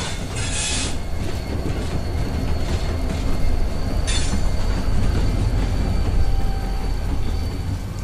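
A train passes through a rural station on a rainy night in a Bengali horror audio story: a loud, steady rumble with rattling wheels and a couple of brief high squeals.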